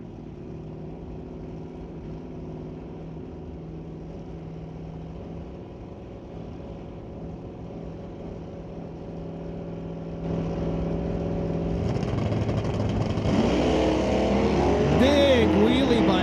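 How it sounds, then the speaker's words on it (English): Drag race at a raceway: a 1967 Dodge Dart against a 1966 Mercury powered by a 399 Ford engine, with steady engine drone building and swelling louder as the cars launch and rev near the end. "Now we've got Corey McInnes, 1967 Dodge Dart, up against Matt Warner, 66 Mercury, powered by a 399 Ford."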